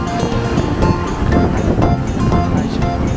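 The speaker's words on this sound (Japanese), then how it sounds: "やっぱりこの打ちつける波がいいですね" Waves crash against the shore along the coast at Colombo, Sri Lanka, a loud, continuous surging wash with repeated splashing impacts and heavy wind noise buffeting the microphone.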